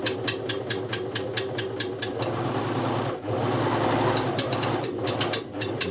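A noisy sewing machine with a worn main bearing runs in bursts, giving rapid rhythmic clattering ticks over a mechanical whir, then briefly spinning at a rougher, steadier hum before the ticking resumes, close and without talking.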